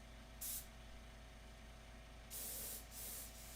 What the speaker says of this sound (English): so I'm going to use my airbrush